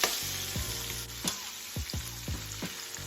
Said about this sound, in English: I'm going to add my onions, y'all